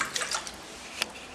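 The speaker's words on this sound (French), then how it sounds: "Voici l'eau, je verse dans l'assiette." Water poured into a plate, giving a few soft splashes and drips: a short cluster at the start, then a single clearer drop near the end, fairly close, with no speech.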